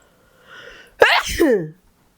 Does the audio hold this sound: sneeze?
yes